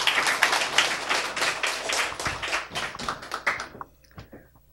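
Audience applause welcomes a speaker at an inspirational talk event, dense at first, then thinning into scattered individual claps before fading out.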